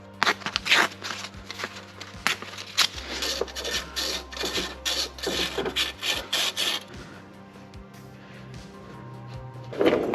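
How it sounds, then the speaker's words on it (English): Light sandpaper, P600 grit, rubbing surface rust off metal on a Pontiac Fiero during a bushing and valve cover gasket repair, heard as close, repeated rasping strokes in a steady rhythm that fade out toward the end. "I'm actually gonna get some light sandpaper and sand away some of that surface rust."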